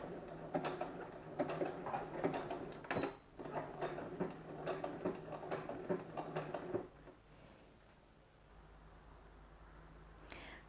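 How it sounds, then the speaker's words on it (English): A sewing machine top-stitches a three-step zigzag with a fast, steady mechanical rattle for about seven seconds, then stops and leaves a quiet room hum. The needle stroke pulses rhythmically and is fairly close. "So just top stitching now and coming to the end of that."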